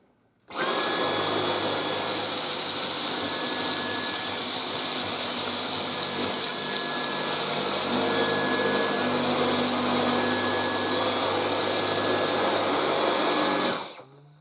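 A Dyson V10 Total Clean cordless vacuum cleaner runs on its max power setting, a loud, steady motor whine with a high tonal hum that starts abruptly, holds unchanged for about thirteen seconds and then cuts off.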